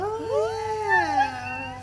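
A cat lets out a single drawn-out, wavering meow close up, rising and bending in pitch before trailing off, with no other sounds around it.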